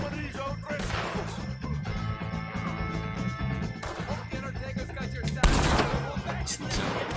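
Gunfire while shooting O'Driscoll gang members in Red Dead Redemption 2, a stretch of sharp shots and crackling bursts with a loud blast near the end, mixed with music and voices talking.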